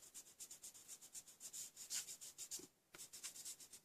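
A Faber-Castell putty art eraser rubs pencil off paper in quick, rhythmic back-and-forth strokes, close and soft, with one brief pause before the scrubbing resumes.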